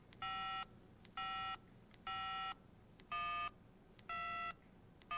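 Five evenly spaced electronic keypad tones from a 1995 Motorola mobile phone being dialed, each a steady beep about half a second long, sound quietly over a faint background hiss.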